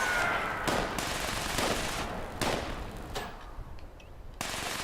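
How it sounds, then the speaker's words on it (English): Minigun fire in the video game Fallout 76, a dense broadband roar of rapid shots running in bursts with brief gaps, loud and close, ending in a short lull before resuming. "Oh, that's a minigun."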